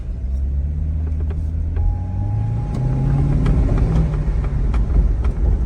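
A 2007 Corvette C6 engine hums steadily while driving, with low rumble and rising tones as it accelerates through the gears, heard from inside the cabin.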